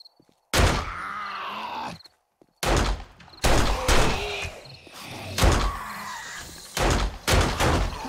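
Several loud, sharp gunshots ring out in the zombie survival game 7 Days To Die. They come in separate bursts with short gaps between them, and each blast is close and booming.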